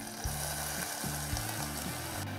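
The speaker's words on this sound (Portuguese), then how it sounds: "E vou refogar, então, meia cebola que eu cortei em beurnoise." Half an onion, finely diced in brunoise, sizzles steadily in a hot pan, with a dense frying hiss running throughout and soft stirring scrapes in the background.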